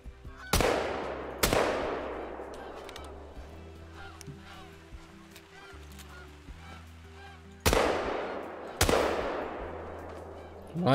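Gunshots from a hunting rifle in Call of the Wild, four sharp loud reports with ringing decay, spaced in two pairs, over honking Canada geese and faint background ambience.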